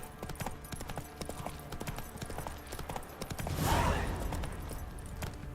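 Roach, a horse in The Witcher 3 video game, with hooves clip-clopping in a quick steady rhythm under a busy game soundscape and a brief swell of noise.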